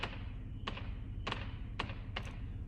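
Fireworks going off outdoors at New Year, heard as four distant sharp pops spaced about half a second to a second apart over a steady low background rumble.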